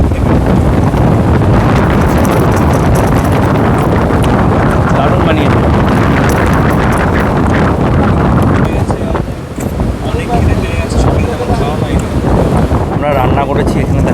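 Strong sea breeze at a beach at Mandarmani gusts across the microphone in a loud, steady rumble, with a voice talking over the wind.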